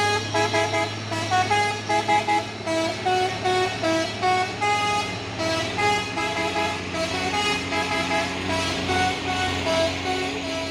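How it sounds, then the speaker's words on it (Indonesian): A 6x2 Hino tronton truck rated 220 PS drives in, its engine rumbling under repeated loud, musical horn blasts that sound in quick rhythmic bursts close by. "Masuk lagi truk tronton pusoren 6x2 nya"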